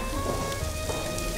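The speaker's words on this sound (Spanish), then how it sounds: "Vamos a echarle champán" Cava poured into a pan of frying hake, giving a steady, dense sizzle and hiss that runs without a break from start to finish, close and fairly loud.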